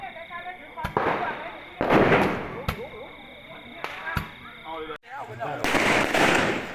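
Firecrackers are set off by children during a festival procession, with several sharp, loud bangs at irregular intervals. Voices and background chatter fill the gaps between the bursts.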